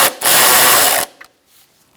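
A power tool whirs in a loud burst of about a second, tightening a bolt on the inner fender liner of a 2012-2018 Ford Focus, then a few faint clicks follow.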